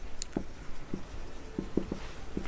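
A pen scratches out an answer in a notebook in short, separate strokes spaced across a couple of seconds, close and fairly faint against a quiet background.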